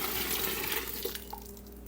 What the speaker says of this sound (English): You're going to go ahead and pour that into your bucket.